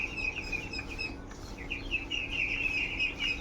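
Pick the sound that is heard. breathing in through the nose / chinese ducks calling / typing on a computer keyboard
chinese ducks calling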